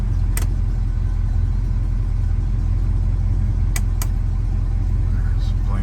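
A 1968 Pontiac Firebird engine runs in a steady, loud low rumble that fills the whole stretch, with a few brief clicks over it and no speech.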